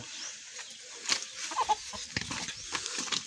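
A broodcock rooster clucks softly and intermittently nearby, short low clucks scattered over a quiet background with faint ambient hiss.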